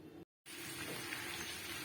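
Mustard oil fries with dried red chilies tossed in for tempering in a kadai, a loud, close, continuous sizzling hiss briefly cut off by a moment of silence near the start.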